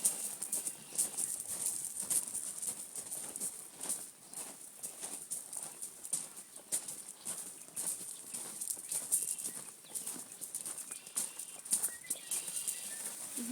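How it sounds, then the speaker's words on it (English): Birds on a farm in spring keep up a faint, steady high chorus of chirping in the background, with soft rustles and light patter nearby and no voices. "You hear all the birds."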